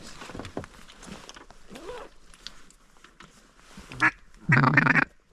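A mallard drake quacks outdoors during a late-season duck hunt, a few short nasal calls and a louder burst near the end, amid quiet rustling and faint talk.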